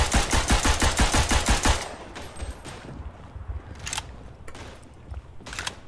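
Rapid automatic weapon fire in the WWI shooter Verdun rattles out in a fast, close burst for about two seconds, then gives way to scattered single shots and distant cracks.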